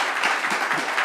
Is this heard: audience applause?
yes